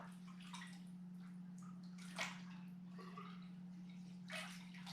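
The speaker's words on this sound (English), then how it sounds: "Just keep the siphon in there and start taking out all that poop and all that good stuff." Water drains through a siphon hose from a 75 gallon fish tank, a soft continuous gurgling trickle with occasional louder sucks and sloshes over a steady low hum, fairly quiet and without speech.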